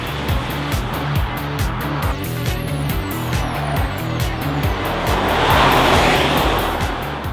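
Alfa Romeo Stelvio SUV driving hard on a test track, engine droning steadily with rising and falling gear tones, rushing wind and tire noise swelling toward the end, no talk.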